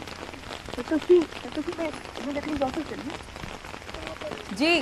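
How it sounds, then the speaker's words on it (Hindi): Heavy rain falls in Uttar Pradesh as a steady broadband wash, with a news reporter talking over it throughout. "जिस तरह से वहां पर भारी बारिश भी हो रही"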